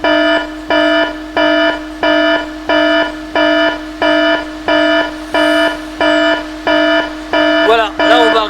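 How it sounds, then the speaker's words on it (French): An alarm at Criel-sur-Mer beeps in a steady loud pulse, about ten even tones of roughly half a second each, with a voice breaking in briefly at the very end. "je vais vous mettre l'alarme"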